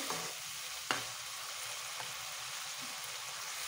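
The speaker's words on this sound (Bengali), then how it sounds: "লবণ দিয়ে আবারও ভালো করে মশলাটাকে নেড়ে নেব" Spice paste with salt frying in a pan as it gets stirred: a steady close sizzle with a few scraping spoon knocks, no voices.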